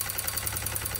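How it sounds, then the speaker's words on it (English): A broken ATV engine idles with a rapid, rhythmic rattle, a quick pulsing clatter over a low engine drone, close and steady for a brief moment. "That's the rattle noise right here."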